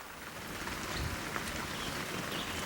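Heavy rain pours straight down at a gold prospecting site under gray skies, a steady dense hiss of drops on surfaces, constant and fairly faint throughout.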